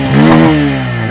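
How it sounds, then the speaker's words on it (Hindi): A new Bajaj Pulsar N150 motorcycle engine revs loudly up close, its pitch climbing and then settling back to a steady rumble. "इंजन साउंड सुन लो"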